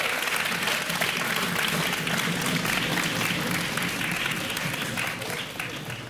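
A live audience claps loudly and steadily after a big band performance of a cup song at a season-farewell music event. The dense, even applause holds for about six seconds before easing slightly at the end.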